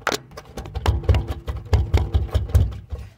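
A broken drive shaft on a neglected Cadillac rattles and knocks as it turns, giving a rapid, uneven series of close metallic clunks and thumps over about three seconds.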